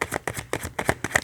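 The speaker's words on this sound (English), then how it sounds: "Okay, one more shuffle through." Tarot cards riffled and shuffled by hand in quick, papery bursts, about six flutters in close succession with no talking.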